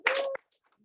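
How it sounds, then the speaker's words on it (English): Short burst of applause for presenters at a student engineering event, a brief dense patter of hands lasting a moment before cutting to silence. "So all of you deserve a round of applause"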